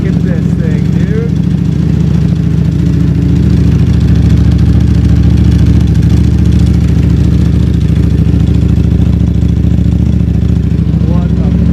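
A Ducati Panigale V4 SP motorcycle engine, not run for months, running at a steady loud idle close by, with a person speaking over the rumble.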